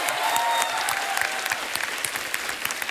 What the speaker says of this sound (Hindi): जोरदार तालियां यार, वाह वाह।